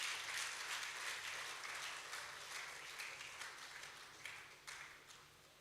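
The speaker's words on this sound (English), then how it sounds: "Please clap for this man." Audience applause for a lecturer at a valedictory lecture at The Polytechnic, Ibadan: steady, dense clapping from a crowd, faint and distant, lasting several seconds and slowly tapering.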